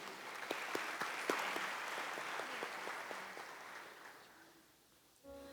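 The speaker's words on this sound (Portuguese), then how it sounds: "A salva de palmas para a palavra de Deus." A church congregation at Mass claps for the reading, with scattered distinct hand claps over a softer wash of applause that gradually fades out before a voice begins.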